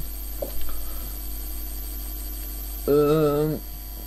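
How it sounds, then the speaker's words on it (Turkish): A short tonal chime from a phone message notification sounds once for under a second, faint under a steady background hum while playing PES 2014. "Bir dakika telefon bir mesaj geldi."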